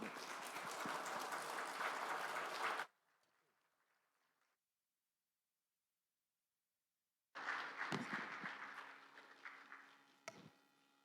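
A church congregation at a Friday evening worship service applauds as a guest speaker steps up to the pulpit; a burst of clapping lasts about three seconds, then fades to quiet, and a later stretch of fainter crowd sound follows.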